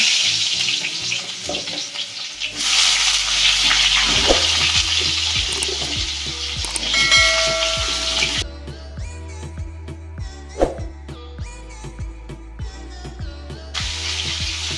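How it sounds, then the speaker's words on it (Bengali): Potato and pumpkin pieces fry in mustard oil in a wok, a loud steady sizzle with repeated clinks and scrapes of a spatula stirring, the hiss easing in tone partway through. "প্রথমে আলু আর কুমড়োটাকে ভেজে নিতে হবে"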